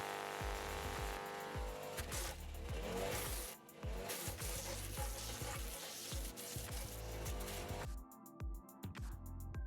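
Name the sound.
garden branch chipper engine shredding branches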